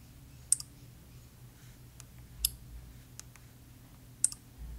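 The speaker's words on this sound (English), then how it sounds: "there's a sound that's made every time you lock your screen" Samsung Galaxy S24 screen lock and unlock sounds, three short, sharp, quiet clicks spaced about two seconds apart over a faint background hum.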